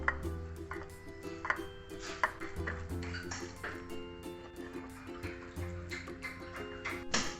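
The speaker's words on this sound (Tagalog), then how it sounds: "ating imamash or dudurugin ang malambot na kalabasa hanggang sa magkaroon siya ng ganitong klaseng texture" Soft boiled squash mashed by hand in a bowl for fish croquettes, with repeated close, soft taps and scrapes of a utensil in an uneven rhythm under faint kitchen ambience.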